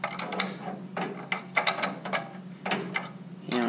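A ratchet wrench tightens rocker arm studs on a Cushman OMC engine, several quick bursts of clicking pawl strokes close up, separated by brief pauses, with no talking.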